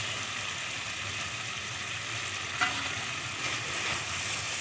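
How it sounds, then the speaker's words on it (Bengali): Fish curry masala sizzles steadily in a pan as a paste of ground rice seed and poppy seed is stirred into it, with a soft bump of the stirring near the middle and no talk. "এবারে এই সময় আমি যে চাল মগজ আর পোস্তটা বেটে রেখেছিলাম দিয়ে দেবো, ভালো করে হাত দিয়ে একটু নাড়িয়ে"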